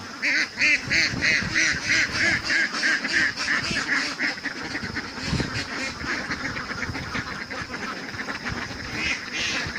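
Many 13-week-old laying ducks quack loudly and repeatedly in a busy, overlapping chorus that carries on throughout.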